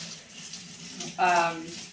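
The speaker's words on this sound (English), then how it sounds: "Now what we're going to do is fill this up with hot water." Hot water running into a dye pot for kettle dyeing, a short burst of splashing, hissing flow that starts suddenly after a quiet moment and stays steady and close.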